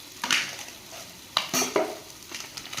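Spices are stirred into a mutton liver fry in a pan with a few distinct scraping strokes of a spoon against the metal over a quiet, faint sizzle, with no talking.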